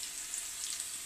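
Curry leaves sizzle in hot oil during a tempering for Gujarati kadhi, after green chilies were fried, with a steady, bright crackling hiss that stays close and fairly even throughout the brief moment.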